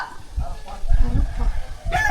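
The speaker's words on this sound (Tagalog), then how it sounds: "Manok?" A chicken clucks and crows close by at a flooded rural home in Agusan Marsh, loud bursts of fowl calls with a voice speaking briefly near the end.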